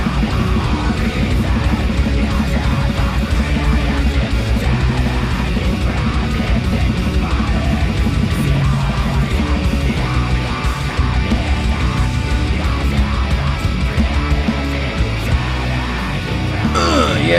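Dense, loud black metal recording: a constant wall of distorted guitars, pounding drums and harsh vocals with no pauses throughout.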